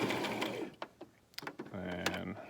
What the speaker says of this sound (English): And then give it its last little lock stitch.